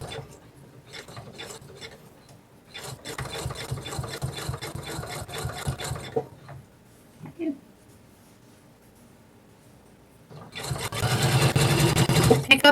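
A sewing machine stitches a boxed-edge fabric couch cushion cover in two long runs of rapid mechanical chatter, with short stop-start bursts and quiet pauses between them.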